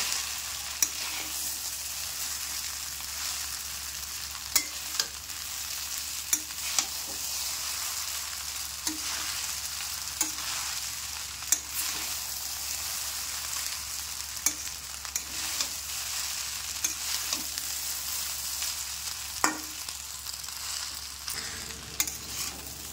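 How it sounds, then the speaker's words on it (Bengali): Chowmein frying in a pan as salt and sugar are stirred in, a soft continuous sizzle punctuated by repeated sharp clacks of a spatula hitting the pan, close and voiceless. "নুন আর চিনিটা দিয়ে আমি একটু ভালো করে মিশিয়ে নেব।"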